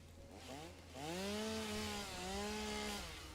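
A chainsaw cutting in the video game Satisfactory, its engine revving up into a sustained buzzing whine that dips briefly and climbs again, loud and close with no talking.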